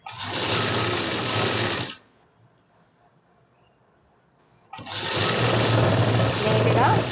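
Sewing machine stitching fabric in two loud, steady bursts separated by a near-silent gap with faint sounds in it, the second run lasting longer.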